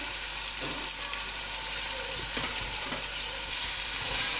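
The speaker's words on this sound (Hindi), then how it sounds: "अब मैं इन तमाम चीज़ों को अच्छे तरीके से मिक्स कर रही हूँ और मज़ीद इन्हें 2 से 3 मिनट तक भूनूंगी" Green chickpeas and chopped green chillies frying in a pan, a steady dense sizzle with intermittent soft scrapes of stirring throughout.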